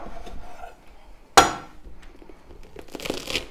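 A knife splits a pumpkin in half with one sharp crunching crack, a sudden loud burst that fades quickly, followed by quieter handling and rustling of the split halves.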